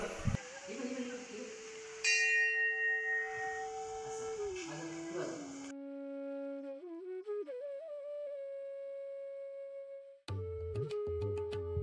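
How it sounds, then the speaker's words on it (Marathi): A temple bell rings as worshippers enter a village temple, its tones blending with sustained chanting-like voices and tonal music before and after a brief pause. "मंदिरात प्रवेश करताच होणारा घंटानाद हा मनाला एकदम तृप्त करून जातो."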